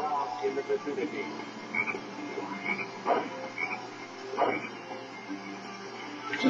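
Frogs croak repeatedly in a jungle level of Sonic Heroes, a busy chorus of short, close croaks layered over steady game ambience, with no talking.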